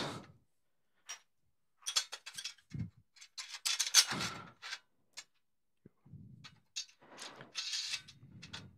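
A flange nut is screwed onto a 55 mm socket screw and fastened while a modular green roof for a flat roof is assembled, giving irregular ratcheting clicks and short mechanical bursts with quiet gaps between them, close by.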